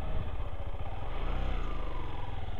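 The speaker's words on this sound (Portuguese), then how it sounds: "Dá uma aceleradinha, vai soltando a embreagem devagar, depois para de acelerar" A motorcycle on a practical riding-test course revs its engine and pulls away, a steady close low engine drone with rapid pulsing throughout.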